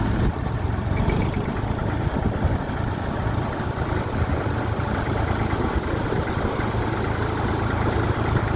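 A Massey Ferguson 35 tractor engine runs steadily and strongly with no hesitation, a dense, continuous close-up rumble heard alone.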